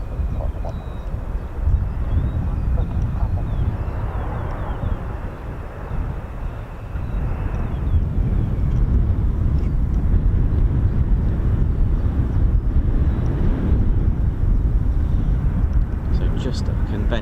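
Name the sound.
F-35B fighter jet landing at RAF Marham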